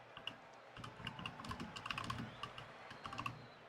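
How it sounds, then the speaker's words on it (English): Fast typing on a computer keyboard during an esports match: a quiet, close run of irregular key clicks with small bursts and short pauses, and no voices over it. "Oh yeah, nice typing."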